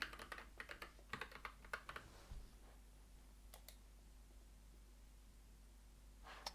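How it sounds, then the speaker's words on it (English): Close, quiet clatter of computer keyboard keys as a password is typed, bursts of rapid clicks followed by a pause and a few final keystrokes. "Let me type in the same password."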